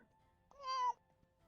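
One short, faint meow from a cat, rising and falling over about half a second against a quiet background.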